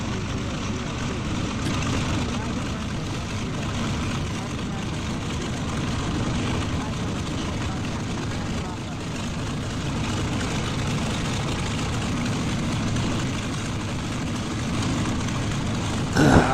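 A simulated airplane touches down at a dangerous airport in a flight simulator game: a steady, loud engine drone holds throughout, ending in a brief thump.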